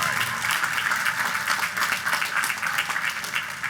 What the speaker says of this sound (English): let's give a big round of applause for all of our Queens College alumni